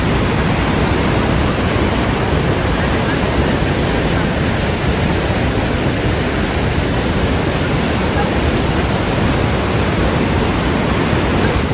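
Niagara Falls roars with a dense, constant wall of rushing water, loud and close, an unbroken noise that stays steady throughout with no voices standing out.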